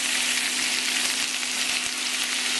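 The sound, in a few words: shell-on shrimp sautéing in a pan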